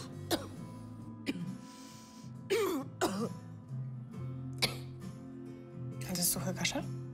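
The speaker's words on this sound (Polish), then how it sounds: "Suchy kaszel?" Dry coughing and throat clearing come in several short bursts, close and fairly loud, over a low background hum in an indoor scene.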